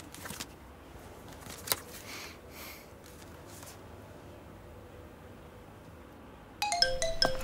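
A phone ringtone suddenly starts playing a bright repeating melody, fairly loud, after several seconds of quiet indoor background with a few faint clicks.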